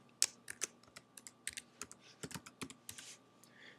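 Fingers typing a username and password on a computer keyboard, a quick irregular run of crisp key clicks with short pauses, close and fairly quiet, no talking.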